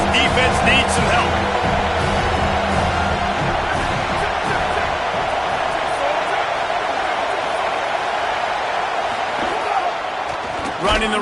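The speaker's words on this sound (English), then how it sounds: "This crowd rising up, sensing that its defense needs some help." A college football stadium crowd roars loudly and steadily through a defensive stand near the red zone, a dense, sustained wall of cheering with bursts of yells, and no clear speech on top.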